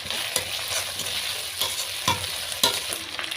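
Chopped tomatoes go into a pan with green chilli paste and are stirred, a steady sizzle punctuated by several sharp scraping and clacking stirs, close up, with no voices.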